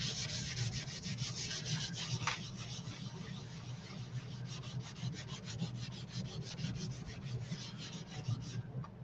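A chalk transfer is rubbed and buffed onto a 12x18 wooden garden flag, making a close, continuous scratchy friction sound with a quick back-and-forth rhythm that runs throughout.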